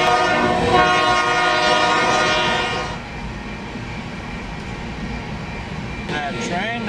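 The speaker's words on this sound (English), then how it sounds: "That train though. It's pretty long. It feels like it's never ending." A long train rumbles past at steady volume, with a continuous roar and a horn-like tone in the first seconds that then fades a little.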